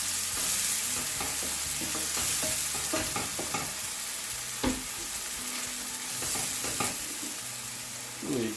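Pasta sauce is stirred in a pan over medium heat, with repeated scraping strokes and soft clatter over a steady low sizzle, close and fairly loud throughout with no talk.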